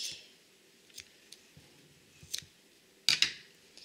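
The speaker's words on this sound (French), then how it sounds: "Voilà, et on va couper" Scissors snipping Rainbow Loom rubber bands on a loom-made hat, a few soft scattered clicks ending in two sharper, louder cuts near the close, with no talking.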